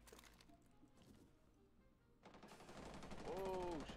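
Gunfire in a tactical shooter video game, quiet rattling shots at first and then louder rapid fire toward the end, overlaid with other game sounds.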